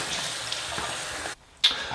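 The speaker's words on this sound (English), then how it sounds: "we want to fill this with distilled water or spring water" Distilled or spring water pours steadily into an enema bag, a close hiss of running liquid that stops briefly and then resumes with a splash. Nobody talks.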